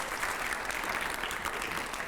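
A crowd at a Rajasthan political event claps loudly and continuously, dense applause filling the whole short stretch without a break.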